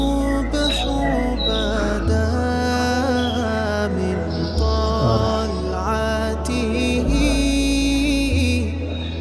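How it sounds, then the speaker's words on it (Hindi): Recorded birdsong plays through loudspeakers in a museum in Medina, Saudi Arabia, birds chirping and tweeting over a loud, steady low hum, with bright calls scattered throughout. "चिड़ियों की चहचहाट सुन रहे हैं हम लोग।"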